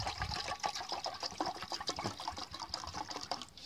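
Water coming to a boil in a US military canteen cup set over an Esbit solid-fuel burner, a steady, dense bubbling and hissing that runs continuously at close range with no talk.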